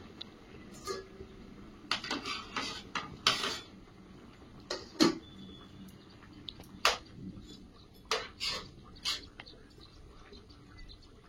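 Fried tilapia pieces being placed into a curry pan in a home kitchen, heard as soft intermittent clinks, taps and light sizzling clicks, quiet and close, with no speech.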